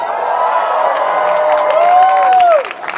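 A convention crowd at Chicago Comic Con fills a panel room with loud, sustained cheering and whooping, bright shouts rising over the din and a whistle soaring near the end before the noise drops off.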